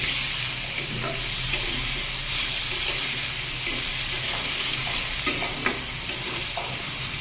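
Pumpkin pieces fry in oil with cumin seeds, a continuous close sizzle with occasional scrapes and clinks of stirring, no talk.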